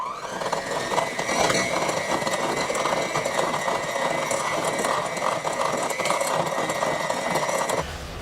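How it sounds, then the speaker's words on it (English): An electric hand mixer whirs steadily as it creams sugar with Crisco shortening, a continuous motor buzz with faint rattling that runs evenly for about eight seconds before cutting off near the end. "I'm going to use my hand mixer to cream these together."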